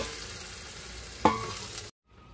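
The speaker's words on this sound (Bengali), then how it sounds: "এর মধ্যে সিদ্ধ করে রাখা মুগের ডালটা আমরা দিয়ে দেব এর মধ্যে পরিমাণ মতো জল দিয়ে দিতে হবে" Boiled moong dal and water go into a hot frying pan for a fish-head dal, producing a steady sizzling hiss, a sharp clink partway through, and then sudden silence.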